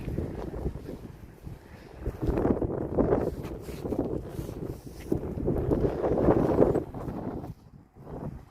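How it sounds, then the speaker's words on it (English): Gusty wind buffets the microphone outdoors at a disused bowling green under restoration, a loud low rumbling roar that swells and eases over several seconds with no voices. "A bit windy today, so sorry about that."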